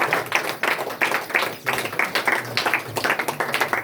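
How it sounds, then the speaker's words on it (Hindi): A church congregation at a Sunday meeting in Ludhiana claps to welcome the pastor, with steady, fairly loud clapping that swells and fades in uneven bursts throughout. "जोरदार तालियों के साथ पास्टर जी"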